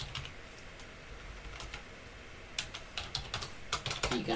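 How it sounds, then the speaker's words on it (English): Quiet keystrokes on a computer keyboard tap in irregular short bursts, sparse at first and then quicker and denser toward the end, close and faint against a low background hum. "you can just type away and talk to people whilst the person,"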